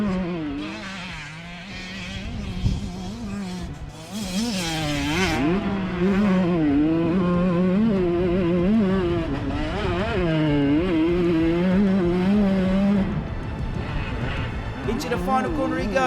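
A 125cc motocross bike races around a track, its engine rising and falling through revs under an excited commentator's voice, which stays on top of the sound throughout.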